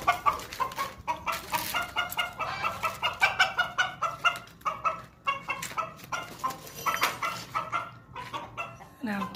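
Chickens cluck and squawk in rapid, overlapping bursts on a village farm, close and loud, with a dog barking now and then among them.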